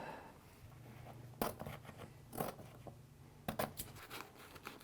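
Scissors cut pre-pasted removable wallpaper close by in several short bursts of crisp snipping and paper rustle, with quiet pauses between them.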